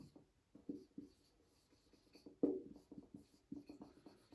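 Pen or marker scratching out strokes on a board during a maths lesson on algebraic expressions, soft close taps and scrapes coming in irregular bursts with pauses between, no talking.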